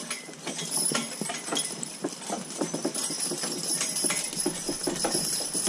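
A working draft horse's heavy hooves clop in a steady walking rhythm in the rain, moderately close, with faint outdoor background and no talking.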